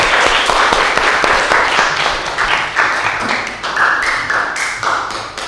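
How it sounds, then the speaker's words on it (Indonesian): Sustained applause and clapping from a classroom audience for a group that has just finished presenting, a dense steady patter of many hands at close range with no talk over it. "tepuk tangan untuk kelompok 1"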